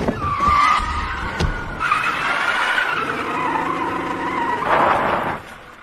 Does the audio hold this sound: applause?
no